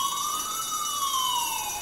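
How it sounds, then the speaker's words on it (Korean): A fire alarm wails in a TV drama scene, a single continuous tone that rises and then slowly falls, steady and fairly loud with no voices. "화재 경보가 울리자 급하게 대피하는 사람들."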